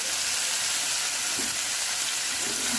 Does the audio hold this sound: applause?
no